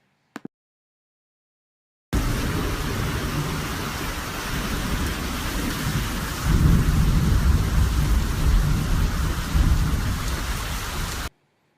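Heavy rain pours down during a rainy-season thunderstorm in Costa Rica, a dense steady roar on surfaces that swells louder with a rumbling thunder roll partway through before cutting off; a brief click comes first.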